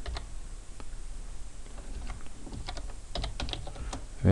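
Typing on a computer keyboard, a quick uneven stream of light key clicks, close and fairly quiet, growing busier toward the end, with no talking.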